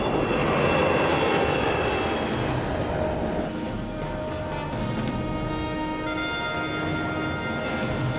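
Avro Arrow jet aircraft climbing at full throttle, a loud continuous roaring jet engine with a steady whine, close and sustained with no talk over it.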